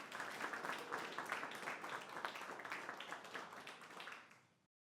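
Audience applause at a university student success story presentation and awards ceremony, welcoming a third-year student speaker; dense steady clapping from a crowd, fading out near the end.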